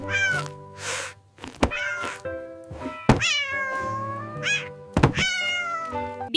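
Cartoon cat meowing in a Tamil kids' story, several bright rising meows spread through the clip alongside thumps and music, close and fairly loud.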